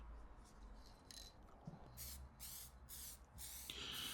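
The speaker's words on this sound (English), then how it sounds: "I'm just opting to clear lacquer this and use the prop out respirator when you're using sprays" Several short aerosol bursts spray clear lacquer onto a small handmade wooden toy train, coming in quick, fairly faint hisses over quiet room noise.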